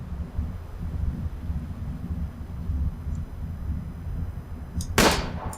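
A single sharp rifle shot rings out near the end in The Long Dark, aimed at an animal's head, after several seconds of steady wind-like outdoor ambience.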